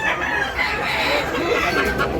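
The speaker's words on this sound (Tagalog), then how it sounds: "Gandang manok." Roosters and hens at a rooster sale give off steady crowing and clucking, a dense layered poultry din close by with no talk over it.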